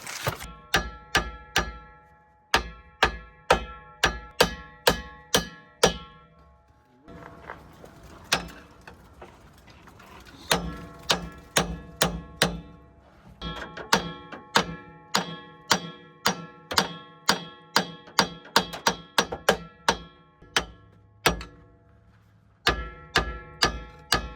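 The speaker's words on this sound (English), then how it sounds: "Oh, it's hammer time." Repeated sharp metallic strikes in quick bursts, with short pauses between volleys, ringing clanks of a hammer beating a rusted part loose during a transmission swap on a 1980 Cadillac Coupe Deville.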